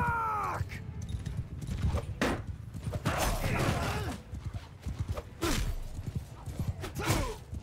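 Cavalry horses charging into battle in Mount & Blade II: Bannerlord, a rumbling mass of hooves and clatter with shouts and battle noise layered over it, loud and chaotic throughout.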